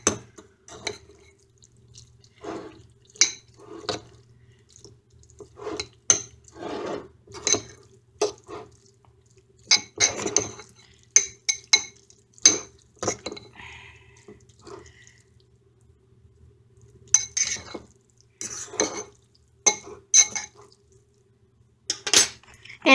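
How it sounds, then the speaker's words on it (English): Italian beef and ramen noodles stirred in a pot, heard as a run of close, sharp metallic clinks and scrapes in irregular bursts, with short quiet gaps between them. "We're going to get the Italian beef in as quick as we can and get it stirred up so that the noodles can get it hot."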